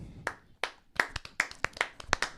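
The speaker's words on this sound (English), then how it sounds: "Y'all clap for me." A few people clapping on a morning show, sparse uneven hand claps that start scattered and pick up into a quicker ragged burst, close and fairly loud, with no speech.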